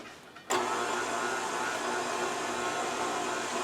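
KitchenAid stand mixer with a pasta press attachment switched on at speed 2: a sudden start into a steady, loud whirring motor drone that holds evenly with no voices.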